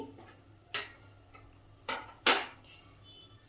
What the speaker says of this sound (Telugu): ఇప్పుడు ఇదే ప్యాన్లో జీలకర్ర ధనియాలు వేసి వేపుకోవాలండి